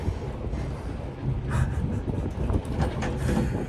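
A hill tram in Hong Kong rumbles steadily with faint rhythmic clatter of wheels on rails, heard from fairly close with no talking.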